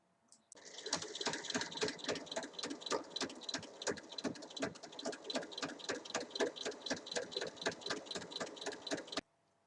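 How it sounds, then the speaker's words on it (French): A sewing machine topstitches 1 mm along the closure of a berlingot coin purse, running as a steady, fast stitching chatter for about nine seconds and then stopping, with no talk. "on va venir faire une surpiqûre à 1 mm tout le long de la fermeture"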